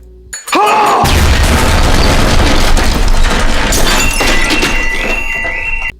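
A loud, sudden explosion from a bomb attached to a wheelchair in a TV show bursts after a brief quiet start, followed by a sustained roaring rumble and crackling debris.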